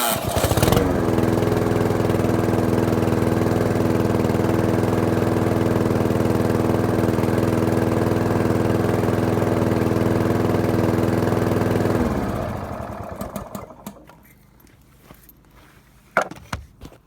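A lawnmower with a broken pull start runs after being started, its engine a loud steady drone for about twelve seconds before it cuts off and winds down, followed by quiet clicks and knocks.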